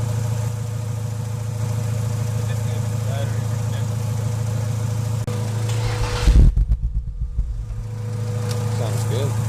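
A BMW M3 engine cranks, catches and settles into a steady, close idle. A louder burst of engine noise comes partway through, and speech is heard over it.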